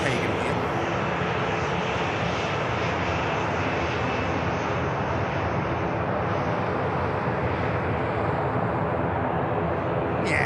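An EasyJet airliner bound for Copenhagen at Manchester Airport holds a loud, continuous engine rumble and whine close by for the full stretch, under a steady wash of broadband noise.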